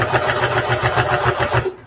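A sewing machine stitches a patchwork duffle bag in a fast, steady whirring rhythm, close and loud, stopping abruptly near the end.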